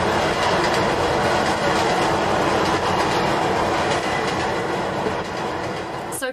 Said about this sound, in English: There's a sound of a train on it somewhere.